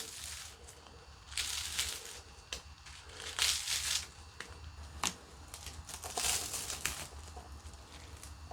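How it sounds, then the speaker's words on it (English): Toast being torn into chunks by hand and dropped into boiling water for home malt beer mash, soft crackling tears in irregular bursts over a steady low bubbling hiss, close and moderately quiet. "So tear your toast up into chunks and just"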